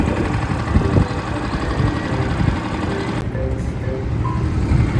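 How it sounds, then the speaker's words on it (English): A boat engine runs on the Truro River in Cornwall, a steady, close, rough mechanical drone with a continuous low rumble and no pauses. "He's getting the engine on."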